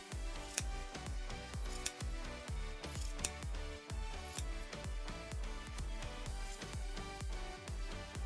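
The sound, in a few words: sharp scissors cutting yarn loops for a pom-pom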